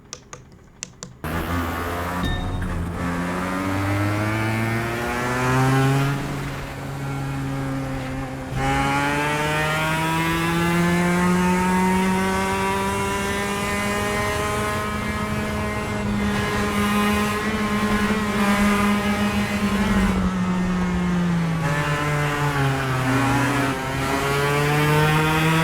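A kart engine in a sim racing game time trial buzzes loudly and continuously, its pitch climbing and dropping with each acceleration and braking sweep along the lap.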